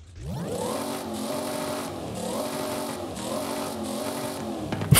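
A high-revving racing car engine with race camshafts in the video game Forza Horizon 5 screams steadily, its pitch climbing and dropping in repeated surges as it shifts through gears.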